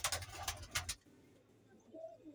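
Pigeons coo softly close by, a few low throaty calls at first, then quieter murmuring in a hushed setting.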